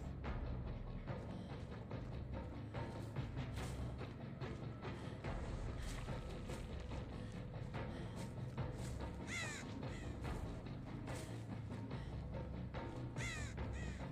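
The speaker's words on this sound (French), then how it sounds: "Ah, corbeau." Crows caw repeatedly in the horror video game Dead by Daylight, harsh scattered calls rising over a low ambient rumble, some close and some farther off, with no talking.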